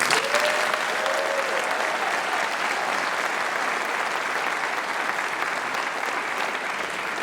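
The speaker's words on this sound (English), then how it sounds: "So a round of applause for all of them." Steady, dense audience applause at a high school choir fall concert, loud and continuous throughout, with a faint voice at the start.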